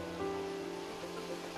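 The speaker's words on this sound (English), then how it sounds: "The water jets move in a predefined pattern" Rotary jet head spraying water inside a process tank, a steady, dense hiss of rushing water with faint tonal hum underneath, continuous and close throughout.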